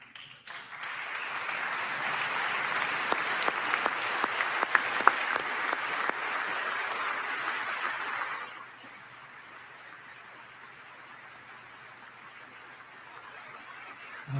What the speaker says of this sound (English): it looks like a few Democrats clapped for him